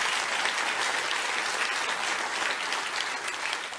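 Steady, dense applause from an audience at a comedy show, many hands clapping together at an even level throughout, with no voices rising above it.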